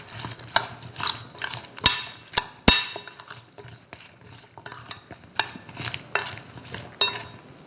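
A spoon stirs mustard paste into eggplant, potato and vermicelli pasta, making soft scraping with several sharp clinks against the pot or pan, close and fairly quiet, with no voices.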